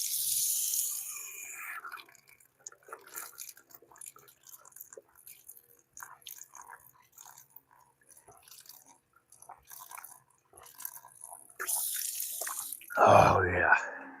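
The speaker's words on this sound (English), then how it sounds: "Get a drink of this old faucet water here." An old faucet drips and splashes sparsely, then gushes in a short, louder burst of running water near the end.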